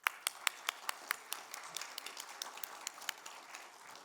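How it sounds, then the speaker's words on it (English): Scattered clapping from a small conference audience for a panel, sharp claps at first that thin out and fade over a few seconds. "let's give a round of applause for our panelists"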